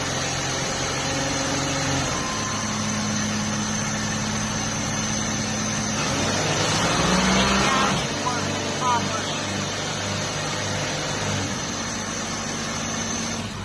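An AOD Stage 3 automatic transmission runs on a test stand with a steady mechanical drone and hum, its tone stepping as it shifts and a brief surge partway through, while someone talks over it.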